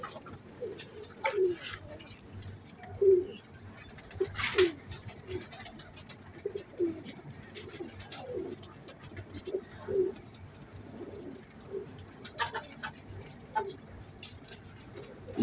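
A red-eyed pigeon coos in low, soft repeated calls spaced a few seconds apart, close by, over faint background noise and occasional rustling.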